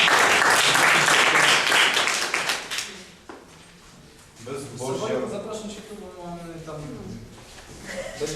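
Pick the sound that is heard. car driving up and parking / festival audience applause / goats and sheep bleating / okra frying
festival audience applause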